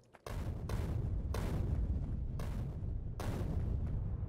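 Grenades exploding to clear trees in Factorio, four or five dull booming blasts in a steady series, each a short loud burst over a continuous low rumble, with no talking.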